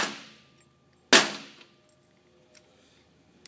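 A lightweight cast Featherlite plastic piece is dropped onto the floor twice, each time giving a sharp, loud clattering clang that decays quickly, followed by a few faint small ticks.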